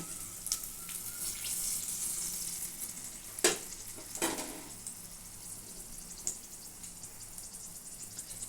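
Torn bay leaves and two dried red chillies dropped into hot oil left from frying potatoes, a soft steady sizzle with a couple of sharp clinks of a utensil, no talking.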